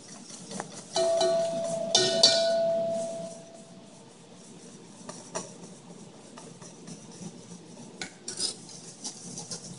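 A metal ladle clinks and scrapes against a pot as ghee is streamed in for hollandaise, with a brief ringing clatter near the start and then softer, sparse taps and stirring.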